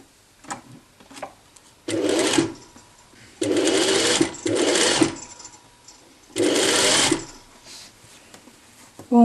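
A sewing machine runs a one-centimetre seam along a kit-made blouse in short bursts, about four runs of a second or so each, close and fairly loud, with quiet pauses between them and no talk.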